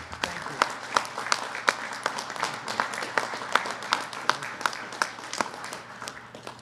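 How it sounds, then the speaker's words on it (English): Modest applause for firefighters at a congressional announcement event, a smaller group clapping with distinct individual claps audible, fairly close and steady before fading slightly. "huge round of applause to all of you who are protecting us"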